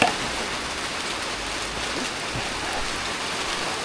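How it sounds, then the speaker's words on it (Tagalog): Rain falls outdoors on a farm as a typhoon approaches, a steady even hiss of drops close by that holds without a break and without voices. "ulan na, inabutan tayo dito"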